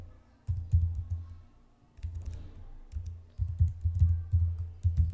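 Typing a prompt on a computer keyboard, with soft muffled key taps in short quick runs broken by brief pauses, close and fairly quiet, no talk.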